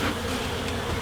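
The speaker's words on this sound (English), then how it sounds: "Settle the bees down here some. That'll help get them back in the hive." Honey bees buzz densely around an open hive during an inspection, a continuous loud drone close by with no voices.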